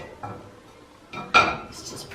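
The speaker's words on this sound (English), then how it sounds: "I'm going to prepare the frying skillet." A frying skillet and pans being handled in a home kitchen while tacos are cooked, giving soft metallic knocks and then a sharper clatter and clink midway, near and moderately loud, with no talking.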